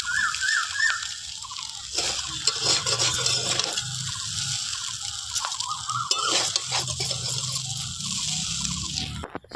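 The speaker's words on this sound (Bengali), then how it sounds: "এটা আমি হালকা হাতেই নেড়ে নিচ্ছি।" Chow mein is stirred gently in a small wok, with soft scraping and clinking of a utensil against metal over a low background hiss, in uneven unhurried strokes.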